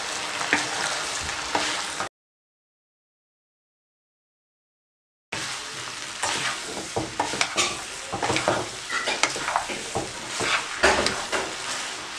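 Chicken vegetable noodles stirred in a hot pan over a medium flame, with steady sizzling and frying and repeated scraping and clinking of a utensil against the pan, close and fairly loud. A gap of silence breaks the sound partway through.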